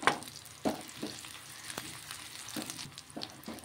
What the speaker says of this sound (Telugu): వేగుతున్నాయండి కరివేపాకు, పచ్చిమిరకాయలు 2 కూడా వేగిపోయాయి.